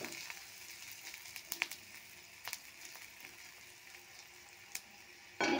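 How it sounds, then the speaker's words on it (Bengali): Sesame seeds frying with beetroot crackle softly in a pan, faint steady sizzling punctuated by sharp scattered pops, ending in a brief louder burst. "তিলগুলো ফাটছে, আওয়াজ হচ্ছে একটা।"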